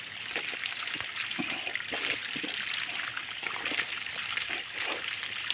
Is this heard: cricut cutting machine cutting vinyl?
no